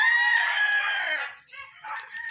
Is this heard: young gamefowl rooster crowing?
yes